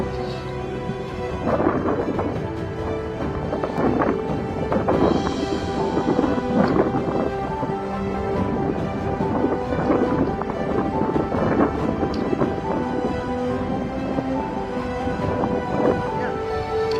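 A windstorm with rumbling thunder and rain fills the air outdoors during animal training, a steady roaring wash of wind and rain with repeated low thunder swells throughout.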